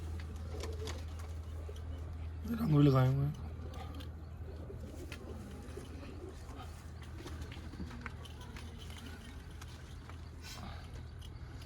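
A pigeon calls once in a short, loud burst during a pigeon-flying contest, rising above a steady low hum while someone talks in Hindi before and after.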